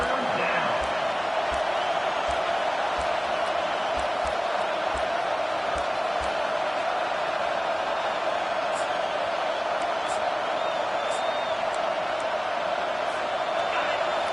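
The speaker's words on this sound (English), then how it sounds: "this crowd is tearing the lid off this place" A steady, loud stadium crowd roars without a break in the NCAA 25 college football video game, Georgia vs Michigan, a dense wall of noise filling the whole stretch.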